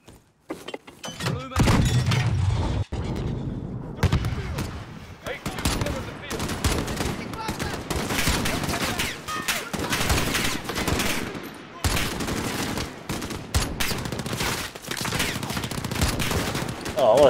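Heavy gunfire from a Call of Duty Modern Warfare embassy firefight, with dense bursts of automatic fire and single shots crackling almost nonstop for about sixteen seconds, loud and close, with brief gaps.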